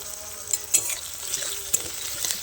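Tomato and onion fry in a pan under a steady sizzle, broken by several sharp scrapes and clinks as a spoon stirs them, close by.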